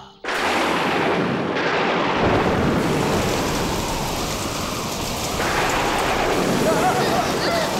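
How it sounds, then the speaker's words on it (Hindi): A violent storm of heavy rain with rumbling thunder, a loud continuous downpour with deep booming swells that rise and fall throughout, no voices heard over it. "भयंकर तूफान आया।"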